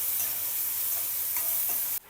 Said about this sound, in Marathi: मिक्सरला बारीक केलेला कांदा परतून घ्यायचा.